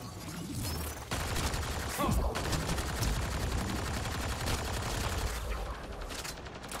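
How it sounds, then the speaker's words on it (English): Rapid bursts of gunfire in Mass Effect: Andromeda, sustained automatic shooting that continues almost unbroken at close range. "they'll start shooting me and I can see where the gunfire is coming from"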